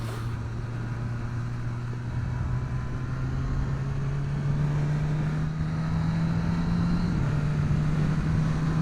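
A 2023 Suzuki Katana motorcycle being ridden, its engine a steady droning hum that rises slowly in pitch, with a brief dip near the end as a quick shifter gear change goes through, heard from the rider's position.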